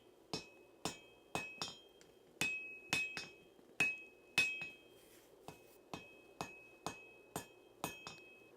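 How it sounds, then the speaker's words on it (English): Power hammer forging a knife blade in a smithy: a steady series of loud, sharp metallic strikes, roughly one to two per second, each ringing briefly before the next blow, with no talking. "it just is so much easier with the power hammer"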